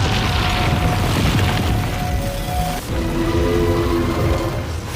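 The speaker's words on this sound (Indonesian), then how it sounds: "Adonis mencoba menembakkan peluru raksasa." Giant bullet fired in an anime battle: a loud, sustained booming blast with rumbling low end and rough crackle, staying dense for several seconds with tonal whines running through it.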